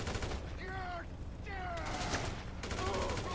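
Gunfire from a weapon in the GTA V video game: rapid repeated shots in bursts, with someone speaking over the shooting.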